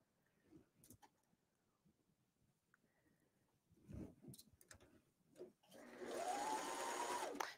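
A sewing machine stitches a T-shirt underarm, starting after a few soft handling clicks and then running steadily and fairly close for the last couple of seconds, with no talk.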